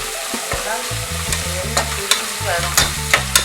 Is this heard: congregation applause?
no